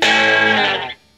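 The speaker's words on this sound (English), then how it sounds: "Check out the natural distortion on the amp." A 1964 Fender Vibro Champ tube amp, guitar plugged straight in with volume at 5, rings out a single sustained chord with gritty natural breakup that holds for under a second before cutting off sharply.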